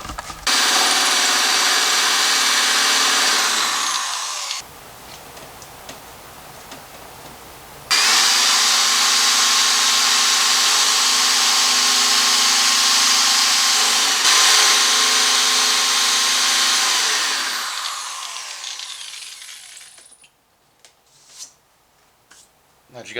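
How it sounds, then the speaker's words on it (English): Holes are drilled through a center rib with a 5/32 inch drill bit, the power drill whining steadily in two long bursts with a short pause between, then winding down into a few faint clicks and handling noises. "The instruction says you've got to use a 5 32 inch drill bit to drill the holes through the center rib at the marks."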